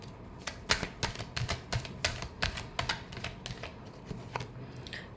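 A deck of tarot cards is shuffled by hand, a run of crisp riffling slaps and clicks in an uneven quick rhythm, close and moderately loud.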